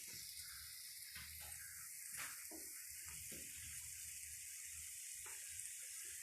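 Spicy chicken curry with chili simmering in a pan, a faint, steady sizzle and hiss with a few soft clicks and bubbles beneath it.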